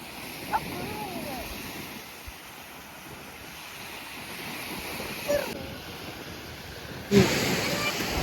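Sea waves on a beach at Hrybivka, a steady wash of surf mixed with strong wind buffeting the microphone, with a few brief voices and sharper noises over the rushing background.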